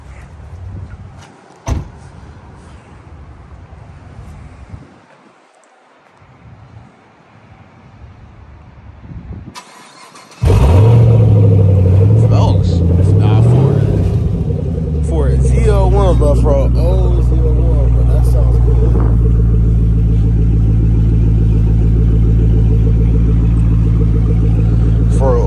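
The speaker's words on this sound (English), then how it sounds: "Are you finna start the ZL1?" A Chevrolet Camaro ZL1 engine cranks and fires up loud and close after quiet talk and a door sound, then settles into a strong idle with revs rising and falling; people talk before it starts.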